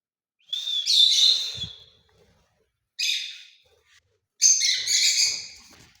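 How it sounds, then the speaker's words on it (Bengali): Two pet birds chirp together in three bright bursts of tweeting and whistled calls, the first and last long and busy, a short one between, close and clear with quiet gaps. "দুটা পাখি একসাথে গিয়ে এখন বসছে।"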